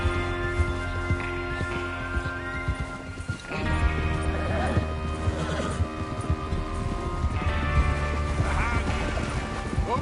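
In Red Dead Redemption 2, a gang's horses snort and whinny while hooves clop and shuffle nearby, with a louder stretch of movement halfway through, tack jingling and a faint murmur of voices underneath.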